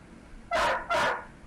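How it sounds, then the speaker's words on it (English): Two sharp barks from a dog sound in quick succession, fairly close, over a low background hum during a family tabletop role-playing game session. "Dog, stop your barking."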